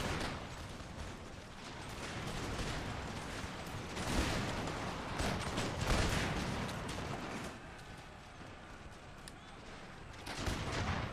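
Continuous machine gun and musket fire from a battle in Empire: Total War, a dense, steady roar of rapid shots with heavier bangs mixed in, filling the whole stretch without pause.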